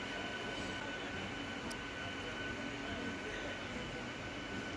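A MEMU train at Warangal railway station gives a steady, even rumble of rolling rail noise throughout, with a faint high squeal or click briefly rising above it.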